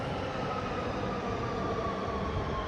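Steady, dense rumble of a metro train at a busy station, a continuous even roar with no pauses, fairly loud and close, with no speech.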